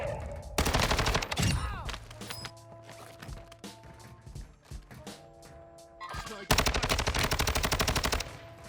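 Automatic and rapid gunfire in the Warzone 2 video game, with loud sustained bursts at the start and end and scattered shots and impacts between, all close and dense, with no talk.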